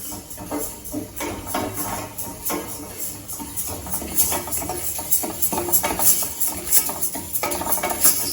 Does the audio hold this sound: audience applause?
no